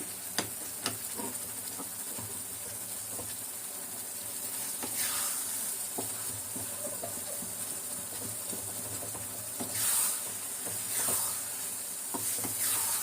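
Sothal, a Sri Lankan sweet, sizzles steadily in a small pan with ghee while a spoon stirs it, a soft continuous hiss with occasional scraping, close and alone with no voices.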